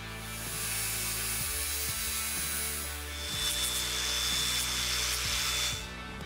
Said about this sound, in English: cut out both pieces using a grinder, making sure to sand back the edges and the drill holes